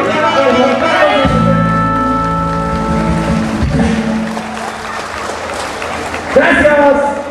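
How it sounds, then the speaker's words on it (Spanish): Applause from wedding guests cheering the newlyweds Inocencia and Juan Carlos, a steady crowd clapping that runs under music and an announcer's voice throughout. "Fuerte los aplausos para los novios"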